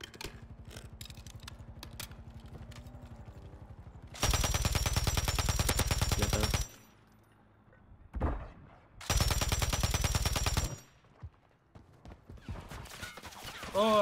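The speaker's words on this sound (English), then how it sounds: "I'm getting shot in the back" Loud automatic gunfire from the Warzone video game, likely a Pulemyot 762, in two long sustained bursts with a short burst between them, against background game noise and brief chatter.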